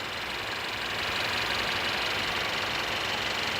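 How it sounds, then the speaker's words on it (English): The 2-liter four-cylinder engine of a 2018 Mercedes-Benz E300 AMG Line 4Matic idles in a steady, even hum heard up close under the hood, with no voices. "you're going to find the 2-liter 4-cylinder engine idling very happily"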